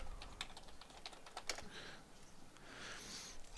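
Rapid, light clicking of a computer keyboard, a run of quick keystrokes close up and fairly quiet, with no talking.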